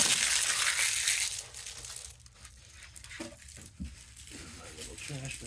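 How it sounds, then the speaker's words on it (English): Plastic wrap crinkles and tears off a knife box at close range, with a loud crumpling burst followed by softer rustles and light handling noises. "Plastic off here."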